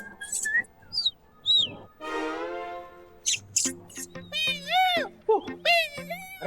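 Human voices imitate bird chirps and tweets in a playful morning scene, a run of short whistled chirps, trills and squeaky calls with a brief sung note in the middle, fairly close and lively.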